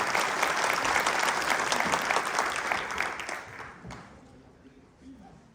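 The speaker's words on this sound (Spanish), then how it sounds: "Un fuerte aplauso para ella" Audience at an education conference applauding, dense steady clapping that tapers off and fades to near silence toward the end.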